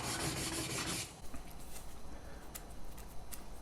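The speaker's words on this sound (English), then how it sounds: "once you've got that up, you can wipe the burr off" A sharpened woodworking plane blade having its burr wiped off, a short close rubbing stroke followed by quieter soft scraping and light taps.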